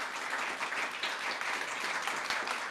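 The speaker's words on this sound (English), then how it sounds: "Give them a round of applause." Applause from an audience at a Kentucky high school closing session award presentation, a steady, moderately distant wash of clapping with no talk.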